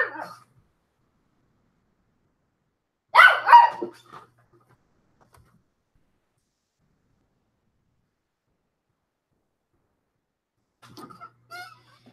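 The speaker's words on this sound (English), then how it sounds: "Madison can try to get that spot back, is if she barks and whines long enough that Bella just gives up and moves." A dog gives a short burst of barks and whining at the start and middle, then faint whimpers near the end, separated by long stretches of silence.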